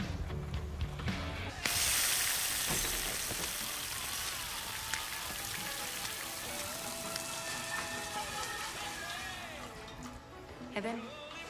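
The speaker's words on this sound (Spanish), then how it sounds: "No, está lloviendo." Rain falls steadily in a film scene, a constant broad patter and hiss under voices and other sounds, starting abruptly just before two seconds and continuing throughout.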